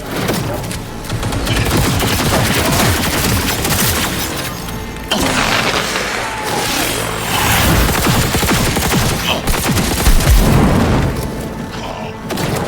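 Gunfire in the video game Cyberpunk 2077 rings out as loud, sustained bursts of rapid shots and booming impacts, with brief pauses, in a heavy and continuous barrage.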